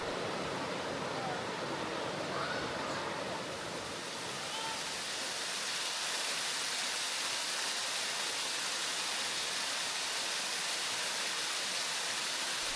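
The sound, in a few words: Tom Branch Falls waterfall on Deep Creek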